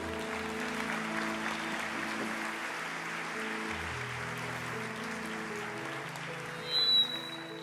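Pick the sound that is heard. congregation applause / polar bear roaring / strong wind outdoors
congregation applause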